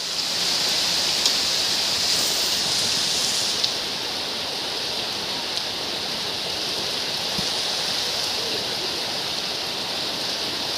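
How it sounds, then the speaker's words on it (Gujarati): Heavy rain pours steadily over a flooded farm field, a dense continuous hiss of falling water and runoff, loud and close throughout with no voices. "ફૂલ વરસાદ પાણી ભરાઈ ગયા"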